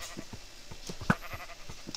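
Black sheep bleating in the Minecraft 1.6.1 update, several short repeated bleats spaced across two seconds, moderately close, over faint game background noise with no talk.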